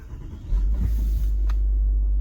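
An L322 Range Rover Vogue engine cranks and catches after a battery change, settling into a steady, loud low idle rumble.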